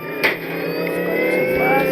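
RC car speeding and drifting in the game Dude Theft Wars, with a loud, continuous buzzing engine whine that climbs in pitch, and a brief knock near the start.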